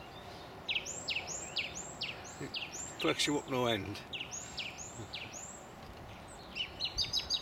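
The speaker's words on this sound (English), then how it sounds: "Lovely to hear that thrush singing." A song thrush, the first of the season, sings beside a river while fishing for perch: repeated clear whistled phrases in short bursts, moderately near, with someone briefly talking over the middle.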